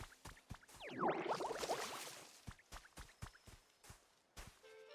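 Watering plants in the Pokémon Pokopia video game: a soft splashy pour of water lasting about a second, set among quiet rhythmic clicks and tapping game sounds.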